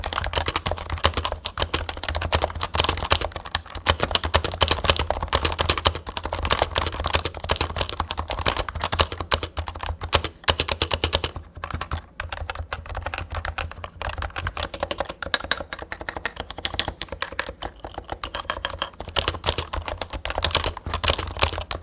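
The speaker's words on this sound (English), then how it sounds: "better have a nice sounding keyboard" Rapid, continuous typing on a Topre-switch keyboard, dense muted keystrokes clattering along steadily without pause, close up.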